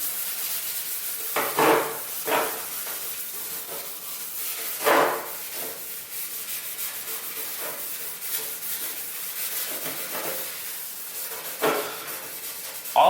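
Steady hand scuffing across a primed surface, a soft continuous abrasive hiss with occasional sharper strokes, close by.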